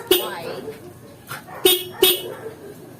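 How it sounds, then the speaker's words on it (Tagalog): A Raider 150 FI motorcycle horn beeps several times in short separate toots, near and fairly loud, with brief gaps between them. "gumagana na yung busina natin"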